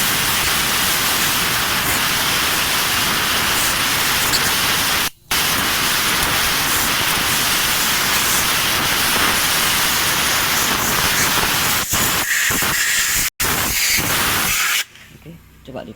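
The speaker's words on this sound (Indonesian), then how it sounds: "Coba ambil kompresor disemprot soket SCU-nya ini." Compressed air blasting steadily into the ECU connector socket of a keyless Honda PCX 150 scooter, a loud continuous hiss that holds for most of the clip with brief breaks near the end.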